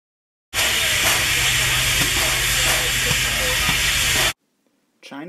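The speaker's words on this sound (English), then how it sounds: "8419 was built by the Datong Locomotive Works in Datong, China in 1989, and is the 8419th steam locomotive built by that factory" China Railways steam locomotive 8419, a 1989 Datong Locomotive Works engine, blasts a loud, steady, close hiss of steam for about four seconds before cutting off abruptly, leaving near silence.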